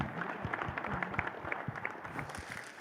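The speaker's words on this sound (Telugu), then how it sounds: "they should give a huge round of applause actually" A crowd at a film's blockbuster celebration event applauds with continuous, fairly distant clapping, scattered sharper claps standing out in the dense patter.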